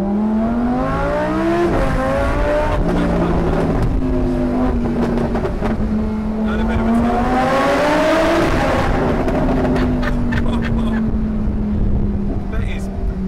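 A Lamborghini Huracan engine revs hard while driving, its rising and falling harmonic pitch sweeping up and down through gear changes, loud and close, with a person speaking over it.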